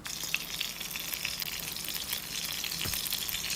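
Beef for a Khemmarat-style dish frying in a pan, a steady close crackling sizzle with a faint spatter throughout and no talking.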